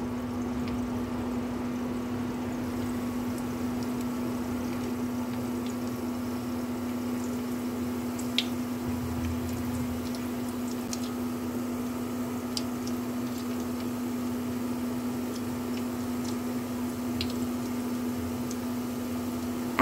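Onion pakoras fry in hot oil, giving a low continuous bubbling hiss with scattered faint pops over a steady background hum.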